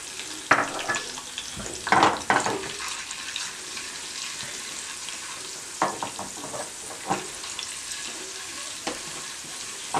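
Green chillies and ginger sizzle in hot oil in a pan for spinach chicken karahi, a steady close frying hiss broken by stirring scrapes and spoon knocks.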